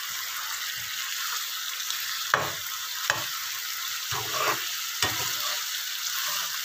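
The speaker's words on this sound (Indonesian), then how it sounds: "Sekarang mau saya taburin ini ya, goreng bawang sama daun seledri." Fried shallots and celery leaves sprinkled onto chicken feet cooking in black pepper sauce in a pan, a steady sizzle broken by a few soft stirring scrapes and taps, close and alone.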